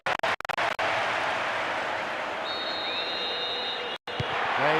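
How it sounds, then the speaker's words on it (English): A loud, steady roar of a stadium crowd cheering after a goal in the PES 2009 football video game on PlayStation 2 fills the clip, broken by a few brief gaps at the start and end. "The stadium is shaking because they're jumping up and down and making so much noise."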